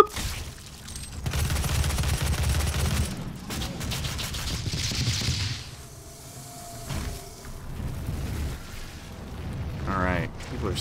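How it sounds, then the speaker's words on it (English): Enemy gunfire and explosions in the DOOM video game, a dense barrage of shots and booms filling the scene, loud and continuous with brief lulls, mixed with other game effects. "Alright, people are still shooting stuff at me."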